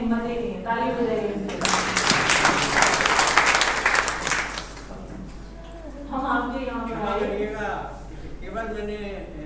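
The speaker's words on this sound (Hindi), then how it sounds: "ताली बजाइए।" An audience at a spiritual talk bursts into a loud round of clapping lasting a few seconds, framed by someone speaking before and after it.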